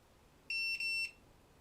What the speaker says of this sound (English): It's beeping at me now.